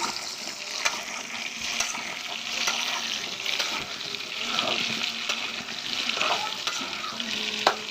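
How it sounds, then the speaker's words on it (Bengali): Potatoes fry in hot oil in a pan, giving a steady, dense sizzle with scattered spits and light stirring scrapes throughout, close and continuous with no talking. "আমি প্রথমে তেলটা গরম করে তার ভিতরে কিছু আলু ভেজে নিচ্ছি ভালো করে"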